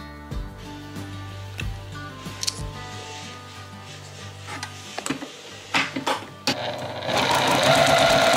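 A Juki 2010 TL sewing machine stitches in a studio: loud, close, rapid mechanical clatter comes in uneven bursts with brief pauses and ends in a sustained fast run.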